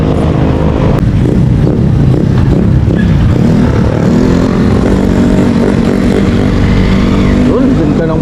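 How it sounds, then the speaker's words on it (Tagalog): A motorcycle engine rumbles loudly and close by, its pitch rising and falling as it revs, with someone talking over the continuous, heavy road and engine noise. "ganda ng bomba ng motor na yun"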